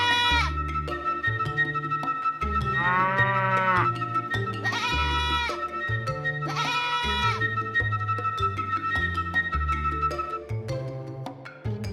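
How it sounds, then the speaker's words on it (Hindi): Sheep and goats bleat several times over a rhythmic musical backing, the animal calls loud and close, mixed into the music alongside a flute. "बस पशु, भेड़, मुर्गियां, बकरी सभी आ गए।"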